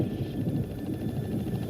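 A helicopter passes in a Jurassic Park raptor scene, giving a steady low rotor rumble with faint periodic chopping, moderately loud and continuous throughout, with no voices.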